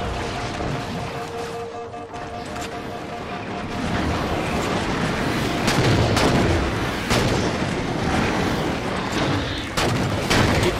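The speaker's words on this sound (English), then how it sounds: "they're throwing so many grenades" Dense gunfire and grenade blasts in a Halo 4 firefight, a steady barrage of booming explosions and shots that swells louder around the middle and continues without pause.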